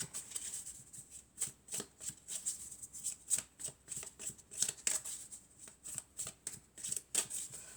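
Tarot or oracle cards being shuffled by hand, a steady run of crisp riffling bursts close up, repeating every fraction of a second with no talk.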